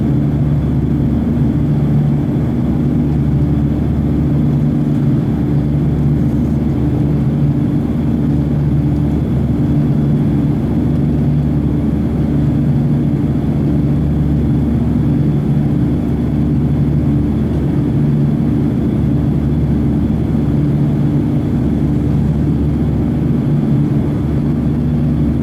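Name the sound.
Lufthansa Airbus A340-300 airliner in flight, engine noise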